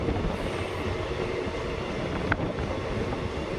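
A local commuter train pulls away on its rails for a run toward Umargaon, a steady, close rumble of wagons rolling with one brief clank partway through and no voices.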